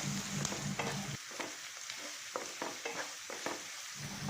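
Diced onions for prawn fried rice are stirred in a pan over high flame, a close sizzling hiss broken by repeated scraping strokes of a spoon against the pan in an uneven rhythm, with no voices.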